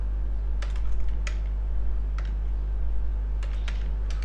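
Keys clatter on a computer keyboard in irregular clusters of quick taps while a server configuration is being typed, set against a steady low electrical hum with no voices.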